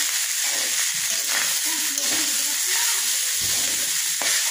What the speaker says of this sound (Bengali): বাকি অনেক ভাত থাকলে এইভাবে ভেজে খাবে।